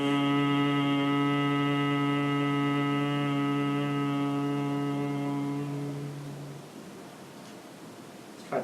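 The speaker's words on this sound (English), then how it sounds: "When you exhale, you're going to make a vibration humming sound right at that point where the tip of your tongue" Vibrational humming with the tongue tip pressed to the roof of the mouth in Kechari Mudra, a steady buzzing drone on one exhale that holds for about six seconds, then fades into quiet breath.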